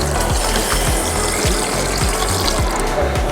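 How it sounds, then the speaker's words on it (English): Cold tap water runs steadily over freshly cooked noodles in a kitchen sink to rinse off starch, a continuous close gushing stream with faint rhythmic knocks underneath and no talking. "Put cold water over them."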